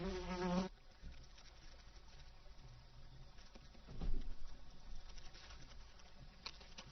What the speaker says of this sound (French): La guêpe suce avidement le jus répandu sur le tronc.